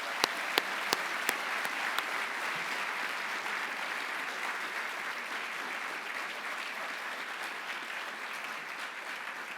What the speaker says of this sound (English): A round of applause for the class of 2025.